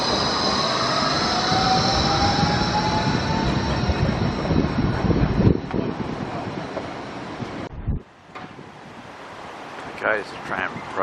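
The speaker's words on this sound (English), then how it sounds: "there's a tram approaching Broadbeach South." Tram approaching Broadbeach South station on the Gold Coast in gale-force wind, a steady rumbling roar with a rising squeal that cuts off abruptly around eight seconds, followed by quieter wind and traffic noise.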